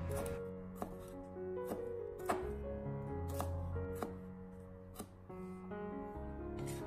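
Knife chopping the ends off peeled shallots on a cutting board, about eight sharp, distinct taps at uneven intervals, close and clear over soft background music.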